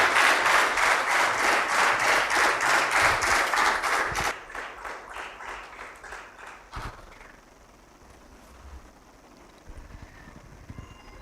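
An audience at a signing ceremony between Aikya Vidya and Woxsen University breaks into loud, rhythmic unison clapping that abruptly drops after about four seconds, trailing into scattered claps and quiet room noise.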